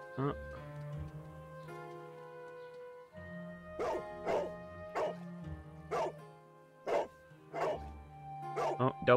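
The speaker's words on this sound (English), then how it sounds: "Oh, double bark." Toby the dog in the Sherlock Holmes: The Devil's Daughter video game gives a series of short, sharp barks over sustained game music, several clustered toward the end, loud and close.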